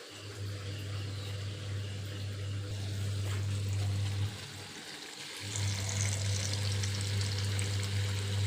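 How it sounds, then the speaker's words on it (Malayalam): Unniyappam batter frying in hot oil, a continuous close sizzle and crackle with a low steady hum underneath, dipping briefly midway before the bubbling swells again, no talking. "ഇത് ഒഴിക്കുന്ന സമയത്ത് എണ്ണ നമ്മുടെ മേത്തോട്ട് തെറിക്കും"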